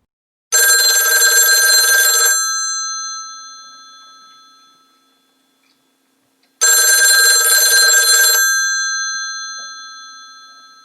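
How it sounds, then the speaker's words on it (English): A kitchen telephone's electronic ring sounds in two loud bursts about six seconds apart, each ringing for roughly two seconds and then fading away into silence. "The phone in the kitchen abruptly rang."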